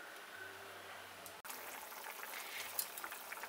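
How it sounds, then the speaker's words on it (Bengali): Potatoes simmering in curry gravy for raw jackfruit kofta curry give a quiet, steady bubbling and soft hiss, with a brief pause partway through, then gentle popping continues. "এখন আলুটাকে একটু আমি ঝোলের সাথে সিদ্ধ হতে দিচ্ছি।"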